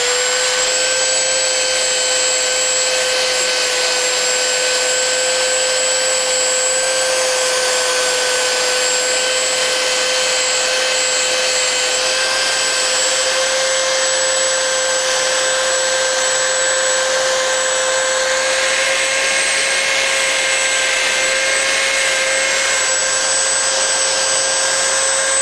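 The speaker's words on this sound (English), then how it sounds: "We're gonna move to a disc sander now." A disc sander grinds steadily against a manzanita root burl, a loud, continuous whirring hiss with a high tonal whine that holds unbroken throughout, with no talking.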